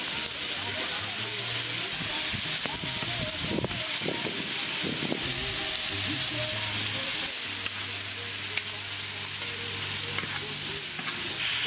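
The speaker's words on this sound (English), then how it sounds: "Throw your steak in. Time to season this meat." Steak frying in a pan at a cabin, a steady close sizzle with stirring and scraping noises and occasional clatter, running continuously with a low background hum.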